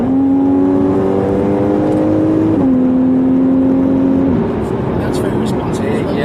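A Porsche Cayman engine accelerates steadily from inside the car, its droning note climbing through the gears with a short dip at each shift, loud and continuous under faint talking.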